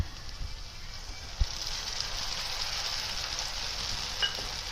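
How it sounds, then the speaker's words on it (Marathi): Cabbage manchurian sautéing in a pan with manchurian masala, a steady broad sizzle and fry hiss throughout, with a couple of brief clinks of stirring against the pan. "हे चांगलं परतून घेऊया त्या टाकूया मंचुरियन मसाला"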